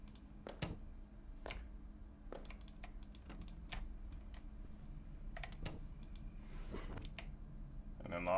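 A computer mouse clicked repeatedly during a horror PC game: sharp, close, irregular clicks scattered over several seconds against a quiet room hum, with a brief burst of clattering near the end.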